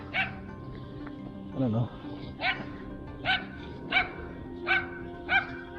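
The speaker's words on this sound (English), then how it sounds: "There's a bunch of dogs." Several dogs bark in a park, a series of sharp yips and barks at a steady pace from moderate distance, including one lower whining bark, while someone talks briefly over them.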